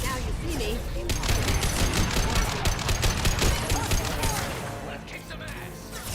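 Sustained bursts of automatic gunfire in the sci-fi shooter Mass Effect 2, rapid crackling volleys running for several seconds before easing off, dense and loud.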